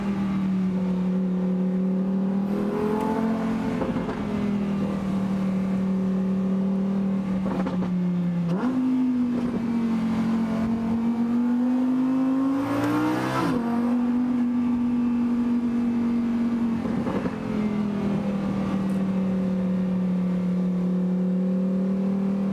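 A Lamborghini drives along, its engine droning at a steady pitch that rises and falls with several revs and gear changes, loud and close from inside the car, with no talking.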